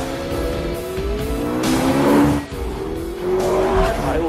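A McLaren P1 hybrid supercar in Forza Motorsport 5 races with a loud, sustained engine roar while its tires squeal in long sliding screeches, rising and dipping through the run.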